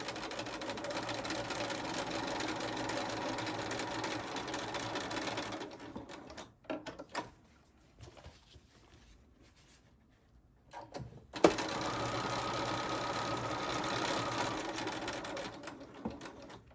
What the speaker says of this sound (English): I'm gonna stitch along the sides of the bias tape.